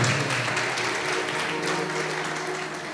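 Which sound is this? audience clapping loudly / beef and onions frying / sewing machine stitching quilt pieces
audience clapping loudly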